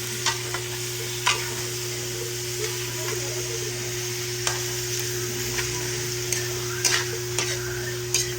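Food being stirred and tossed in a hot pan while cooking dinner, with soft scraping clatters at irregular intervals over a steady low sizzle and hum, close by, no talking.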